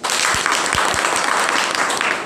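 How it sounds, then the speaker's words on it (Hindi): An audience breaks into steady, dense applause at a business presentation, the clapping continuous and fairly close throughout. "बताइए ताली"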